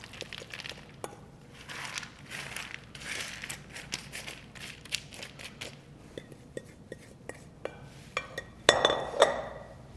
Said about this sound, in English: we're actually going to put these back on the tray with the lime zest, lime juice, and spice mix